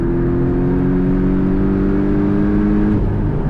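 Inside the cabin of a 2018 Porsche 718 Cayman GTS, the engine holds a loud, steady, bassy hum with a rising tone, shifting pitch near the end.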